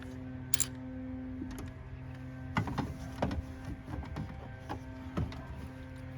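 A ratchet works a socket on a power steering hose fitting of a 2014 VW Passat, giving scattered short clicking bursts and metallic ticks over a steady low hum, close by with no talk.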